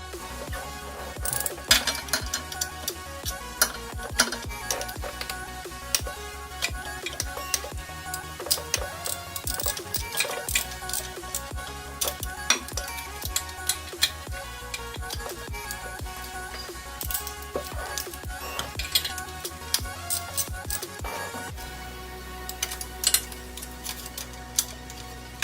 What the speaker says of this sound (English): You're going to need a ratchet and a wrench.